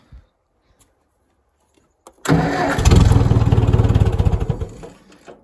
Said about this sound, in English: So I'm gonna get the tractor started